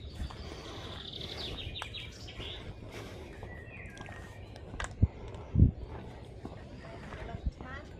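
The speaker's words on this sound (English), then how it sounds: "All the birds singing." Garden birdsong at Sewerby Hall, with scattered chirps and tweets over a soft outdoor background, joined by a few sharp knocks and footstep-like thuds and some nearby talk.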